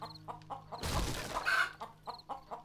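Chickens in a video game, with short close clucks repeating at intervals and a brief louder rustling burst of game noise in between.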